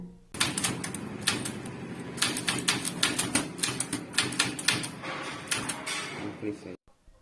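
An English typewriter clatters steadily as a letter is typed, with rapid bursts of key strikes and occasional pauses, close and loud throughout, then stopping abruptly near the end.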